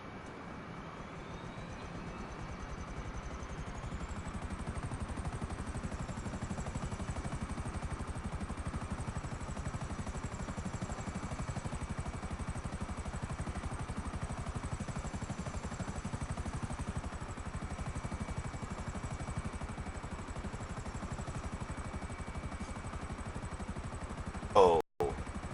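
A helicopter in Grand Theft Auto V flies with a steady, unbroken rotor drone that holds at an even level from start to finish, with a sharp knock right at the end.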